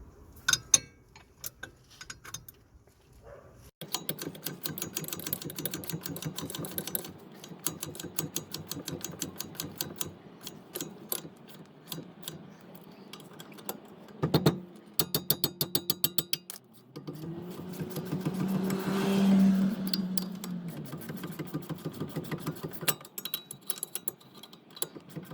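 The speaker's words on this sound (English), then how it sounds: "This one I can't get to it with the ratchet, so I'm gonna use a spanner instead." A spanner works a wheel hub stud nut on a Jaguar XF, making a long run of quick, regular metallic ticking clicks with short pauses and a few heavier knocks, close by and steady throughout.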